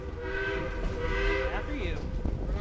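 Durango and Silverton steam train on a bridge, with a steady rumble and whistle-like tonal lines rising and bending over continuous rolling noise, while people talk nearby.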